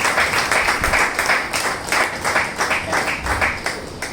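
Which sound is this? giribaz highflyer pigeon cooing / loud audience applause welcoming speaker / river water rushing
loud audience applause welcoming speaker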